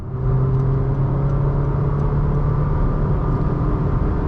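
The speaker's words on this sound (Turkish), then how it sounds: "Yani yol sesi aldığını söyleyebilirim." A constant low road rumble and engine hum fill the cabin of a moving Honda City with a CVT at highway speed, about 90, loud and unchanging.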